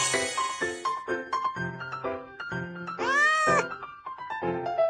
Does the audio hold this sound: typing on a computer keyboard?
no